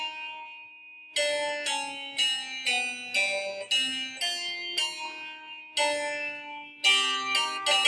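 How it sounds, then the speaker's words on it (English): A single melodic line carries the main theme of a piece of music, with clear bell-like tones stepping through a sequence of notes after a brief held opening pitch, played alone and fairly loud. "What you're hearing now is the theme, the main melody of this piece of music."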